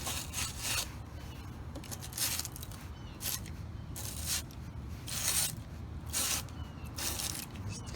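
Reaming 3/4-inch EMT conduit for a solar install, repeated short rasping scrapes in an irregular rhythm, close and fairly quiet.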